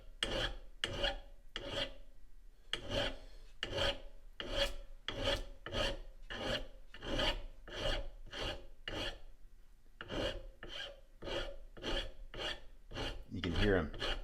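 A file rasps down the front sight bead of an old Iver Johnson .410 shotgun in a close, steady rhythm of quick strokes, with a brief pause partway through.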